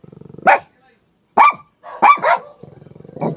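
Two dogs bark at night, sharp near barks in short bursts with a low rhythmic growl or grumble between them, no talk over the barking.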